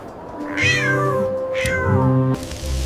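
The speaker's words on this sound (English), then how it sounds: "Meow, meow." Two long, drawn-out cat meows close by, the second rising sharply before trailing off, with a brief quieter sound at the end.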